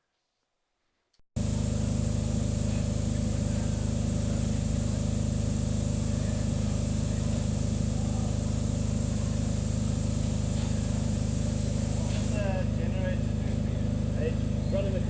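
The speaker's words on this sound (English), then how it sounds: "Running the compressor which provides the air for the brake." Air brake compressor running on a steam locomotive at the Beeches Light Railway, a steady loud mechanical drone with strong low engine hum starting abruptly after a short silence and continuing unbroken throughout.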